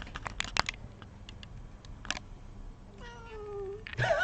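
A house cat heard close by in a home office: a few soft rustles and clicks, then one clear drawn-out meow near the end, fairly quiet, with no speech over it.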